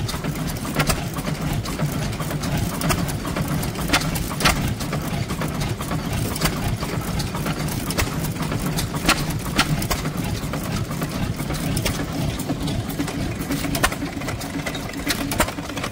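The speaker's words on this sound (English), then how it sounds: "There are some lovely engines there." Vintage stationary engines run together at a rally, a steady, fast mechanical chugging and ticking with sharp periodic clicks, close and continuous for the whole stretch with no voices.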